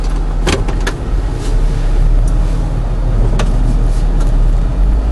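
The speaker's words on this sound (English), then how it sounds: "This JK has a 6-speed automatic transmission. We do have a tap shift switch, if you can see that. So let's put it in gear." A Jeep JK with an LS 5.3 engine and a 6-speed automatic with a tap shift switch idles steadily while being put in gear, with a low engine hum and a couple of brief sharp clicks and clunks up close.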